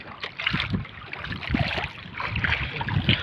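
Waves slap and wash against a small fishing boat at dusk in irregular close splashes, mixed with wind buffeting the microphone.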